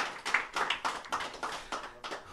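An audience on a French TV set claps in a short burst of uneven, rhythmic handclaps, fairly close and moderately loud, with no talking over it.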